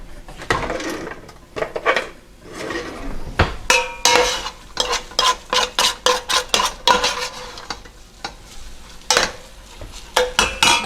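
A spoon scrapes and stirs ground beef in a cooking pan, with repeated clattering knocks against the metal in an uneven rhythm, close and fairly loud, with no talking.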